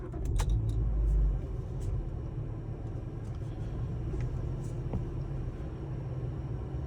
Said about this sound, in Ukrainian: По-перше, ми заводимо наш автомобіль.